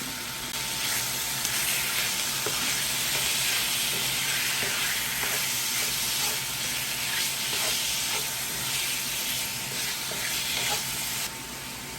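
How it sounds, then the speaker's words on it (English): Chicken pieces crackle and sizzle in a hot skillet, a steady dense hiss of frying with small pops and occasional stirring scrapes, loud and close throughout with no talking. "this skillet and started heating it up, and I'm just going to toss in all that chicken"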